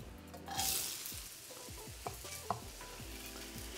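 Onion dropped into hot oil in a wok for a Chinese takeaway dish, a burst of loud sizzling that settles into a steady fry with a few sharp knocks of the utensil, close and without speech.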